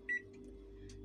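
A single short electronic beep from a microwave oven button near the start over the low, steady hum of the microwave running.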